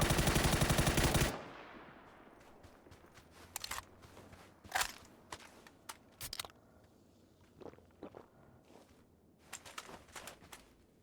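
Automatic gunfire in PUBG on the snowy Vikendi map: a loud, fast burst opens the clip, followed by scattered single shots and short bursts at varying distances, some sharp and near, others fainter.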